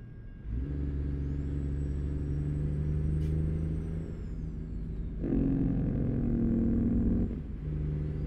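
A truck's engine rumbles steadily at low pitch while driving, with a shift in tone and a brief surge partway through, and a faint high whine above the drone.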